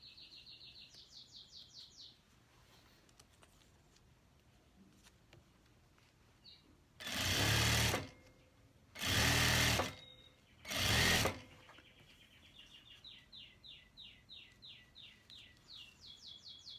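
A sewing machine stitches seams on a teddy fabric winter jacket, running in short rhythmic bursts near the start and end, with three loud broadband thumps or rustles in between, quiet room otherwise.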